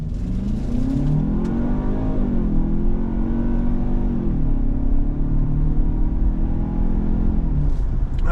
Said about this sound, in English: Here we go with our acceleration test